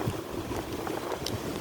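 Wind blows outdoors, rumbling against the microphone as a steady, fairly loud buffeting with no clear speech.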